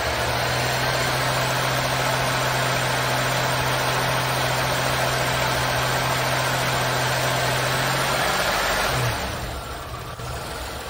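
A 1986 Oldsmobile 98 Regency Brougham engine idles steadily up close with a constant low hum, then quiets and softens near the end with no voices.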